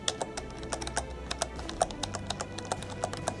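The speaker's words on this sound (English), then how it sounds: "It's a very loud click, clackety, clack, clack, click, and all the buttons are like that." Keys are tapped on a Microsoft Sidewinder X4 keyboard, a quick irregular series of sharp, close clicks and clacks heard alone with no talking.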